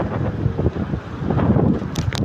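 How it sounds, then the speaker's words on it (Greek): Strong wind buffeting the microphone, a continuous low roaring rumble with gusty swells, close and loud throughout. "Παιδιά, είναι υπερβολικός ο αέρας."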